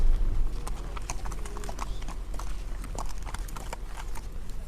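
Horse hooves clip-clop in a steady walking rhythm on a road in a rural township, distinct hollow knocks close by over low engine rumble, no voices.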